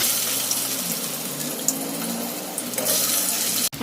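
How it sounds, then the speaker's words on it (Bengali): Hilsa fish pieces fry in hot oil over a medium flame with a constant, dense hiss, close and fairly loud, ending with a sharp clatter. "এবার এতে মাছগুলো ভেজে নেব।"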